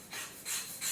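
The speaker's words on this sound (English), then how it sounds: "I've been sanding a bevel on the edge of these" Sandpaper rasps along the bevelled edges of thin wooden diagonal ribs in three short, soft strokes, close by and quiet.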